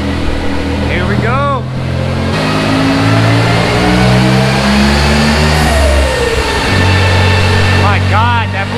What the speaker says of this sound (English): My God, that blow off, that was sick.